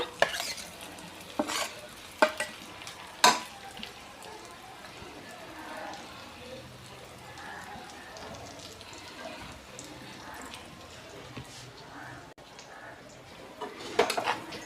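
Pieces of vegetable go into hot oil in a pan for a goruchikkudu curry, with a few sharp clacks of a utensil against the pan at the start, then a quiet, steady sizzle and more scraping stirs toward the end.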